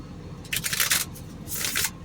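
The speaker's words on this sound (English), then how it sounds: "Let me shuffle this." Two quick riffles of a deck of playing cards are shuffled close by, each a short crisp burst of fluttering card edges in a quiet room.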